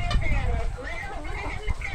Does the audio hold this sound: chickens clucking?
yes